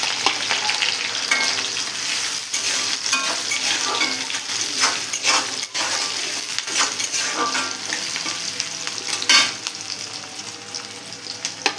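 Chopped green chillies and onion sizzle and crackle in hot oil in a village kitchen, a continuous frying hiss with scraping stirs and light clinks of utensil on pan.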